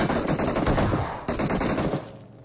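Shotgun fire in a 4v4 video game match sounds as two loud, close bursts of rapid shots, the second fading out toward the end, with no talking.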